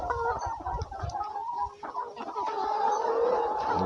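Laying hens on a poultry farm cluck in a close, busy chorus of short overlapping calls, with a few louder squawks standing out from the flock.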